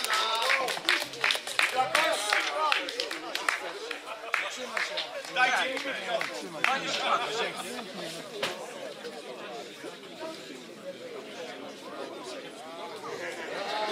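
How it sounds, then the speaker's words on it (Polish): Crowd applauding the organizers at an outdoor folk protest-song festival in Ćmielów, a broad crackle of clapping mixed with chatter and shouts, strongest early and slowly thinning into murmuring voices. "rzeczywiście ogromne brawa dla organizatorów"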